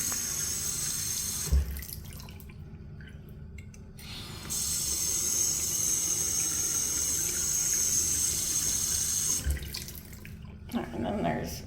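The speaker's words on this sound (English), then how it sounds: "I feel like I need a faucet like this in my bathroom." Water runs steadily from a hotel bathroom faucet into the sink, close and continuous, briefly cut off twice before restarting.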